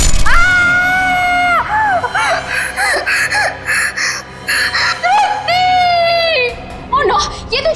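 A girl in a girls' hostel screams in terror: long, piercing, high-pitched shrieks, repeated loudly and close, broken by gasping, whimpering breaks.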